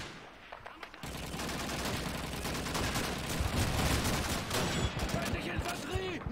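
Rapid WWII-style rifle and machine-gun fire from the Call of Duty 2 video game, a dense, steady stream of overlapping shots under game music and shouted voices.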